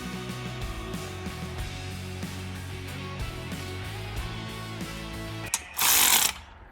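Ratchet clicking as valve cover bolts are torqued down on a 2013 Chevrolet Caprice PPV, a steady run of close mechanical ticks followed by a brief louder burst near the end.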